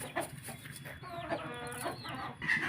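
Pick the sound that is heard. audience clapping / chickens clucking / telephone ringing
chickens clucking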